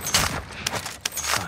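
Bursts of gunfire crack out in the online shooter Warzone, several sharp rapid shots in quick clusters, close and loud, with no voices over them.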